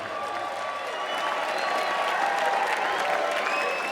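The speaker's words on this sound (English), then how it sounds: "give these guys a round of applause" A crowd at an Island Fights MMA event applauds the fighters after a three-round bout, steady dense clapping and cheering filling the hall at full volume for the whole stretch.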